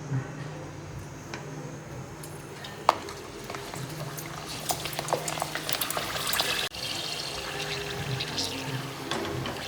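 Khichiya papad frying in hot oil, giving a steady, dense sizzle and crackle with scattered sharp pops and bursts that grow busier toward the end.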